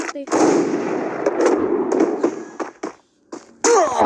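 In the online battle game Free Fire, loud, close gunfire comes in rapid bursts of shots with short gaps and a brief near-silence before a final burst.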